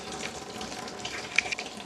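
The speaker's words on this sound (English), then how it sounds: "Anyways, drain it." Engine oil drains from a 2020 Ford Explorer 3.0L twin turbo into a pan, a steady close trickle with a few brief splashy spikes and no talk.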